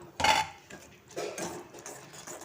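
Soaked rice flour stirred little by little into hot jaggery syrup in a pan, giving soft scraping and clinking of a spoon against metal, with a sharper knock early on and quieter irregular stirring after.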